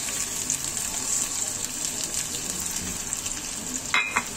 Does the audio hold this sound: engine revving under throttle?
no